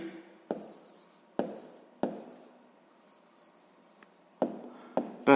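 Pen writing an answer by hand in a sixth-grade math exercise, a series of short scratchy strokes with pauses between them, close and fairly quiet.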